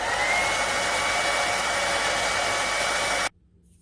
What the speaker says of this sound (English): I'm going to hit it with hairdryer